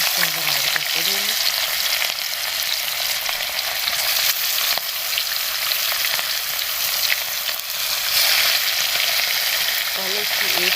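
Fish pieces frying in hot oil, a steady dense sizzle and crackle running continuously at close range, with brief faint voice-like tones near the start and end.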